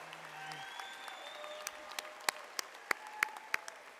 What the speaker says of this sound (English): Go ahead and applause.